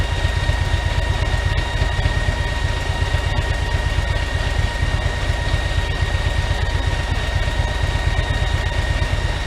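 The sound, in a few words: Harley motorcycle engine idling while stationary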